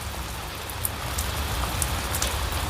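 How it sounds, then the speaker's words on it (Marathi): Steady rain falls on surfaces outdoors in a village, a dense even patter of drops with a few sharper individual hits, continuous and fairly close, with no voices. "तर आता पाऊस चालू झाला"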